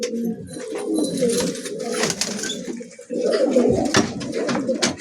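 Several fancy pigeons coo steadily in a loft, a continuous close chorus of low rolling calls layered over one another, with faint background rustle and no talking.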